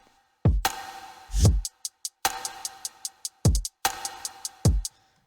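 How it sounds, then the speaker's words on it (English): A sparse, simple hip hop drum beat plays alone: deep booming kicks and sharp snare hits alternate with quick ticking hi-hat taps in a steady, laid-back groove. "we've introduced this little drum pattern here"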